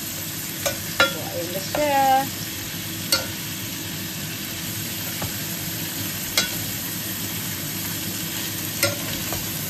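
Sweet and sour tilapia gets stirred in a stainless steel pan, a soft continuous sizzle with scattered utensil scrapes and taps over several seconds, while a person speaks briefly.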